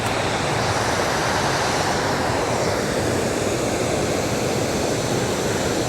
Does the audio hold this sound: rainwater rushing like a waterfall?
yes